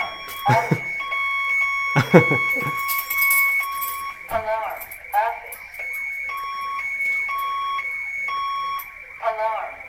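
A loud electronic alarm beeping in a steady repeating pattern inside an EMS station, with people talking over and between the tones.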